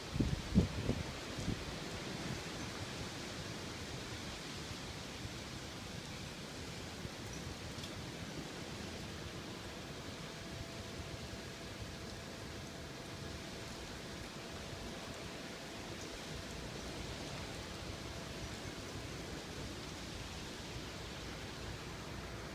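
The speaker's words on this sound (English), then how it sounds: "It's starting to rain a little bit now." Gusty wind blows in a steady broadband rush outdoors with light rain starting, with a few stronger buffets at the very start and otherwise an even, unbroken roar.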